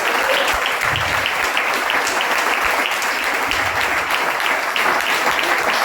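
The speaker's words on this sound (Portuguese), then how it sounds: "Você pode levantar sua mão e aplaudir ao Senhor nesta manhã." Congregation applauding during a Sunday morning church service, dense continuous clapping throughout, loud and close, with no talk over it.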